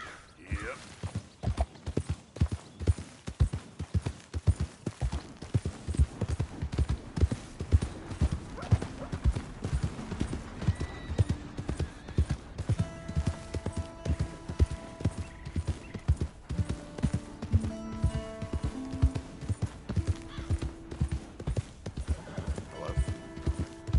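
Horse hooves clip-clopping in Red Dead Redemption 2: a steady, rhythmic run of hoofbeats, close and clear for the whole stretch, with a brief whinny-like call partway through.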